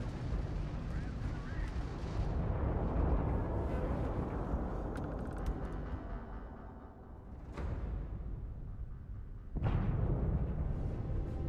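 Starship combat in a video game as a Crimson Fleet ship attacks: sustained rumbling weapon fire and explosions, with two sharp blasts near the end, and a voice speaking over the din.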